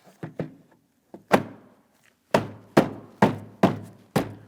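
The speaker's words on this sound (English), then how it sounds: "We're holding the bottom out and away, and we're tapping down along the top." Series of dull plastic thunks as a rear exterior door panel on a 2003-2008 Toyota Matrix is tapped down onto the door along its top edge; about eight close, sharp knocks in an uneven rhythm with short pauses.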